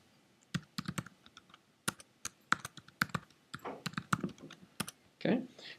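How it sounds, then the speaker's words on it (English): A password is typed on a computer keyboard, heard as irregular bursts of crisp close key clicks with short pauses between runs of keystrokes. "We'll just basically type a password."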